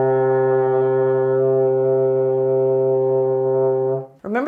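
Euphonium holding a sustained low C played with the first and third valves pressed, a steady rich brass tone for about four seconds before it breaks off.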